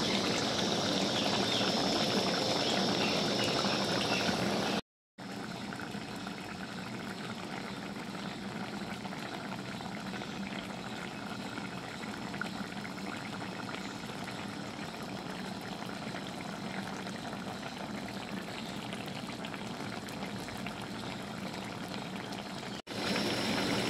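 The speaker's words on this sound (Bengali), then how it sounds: "দেখো বন্ধুরা কি সুন্দর ফুটছে" A pot of vegetable curry with bitter gourd, eggplant, pumpkin, lentil dumplings and mustard paste boils on the stove, giving a steady bubbling hiss throughout with one brief cut near the start.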